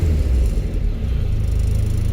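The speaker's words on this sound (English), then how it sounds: "look at that oil pressure, 80 psi at tick over, and if I rev it" A Ford Escort Mk1 with a YB engine, freshly rebuilt, rumbles loudly and close as the revs rise from a low idle, a steady deep engine drone with no talk.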